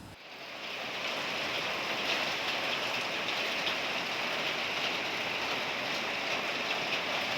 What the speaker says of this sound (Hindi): बाहर इतनी तेज़ वाली बारिश हो गई है